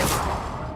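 The Confringo fire spell in Hogwarts Legacy goes off as one short, loud, fiery burst that fades quickly, alone with no talk.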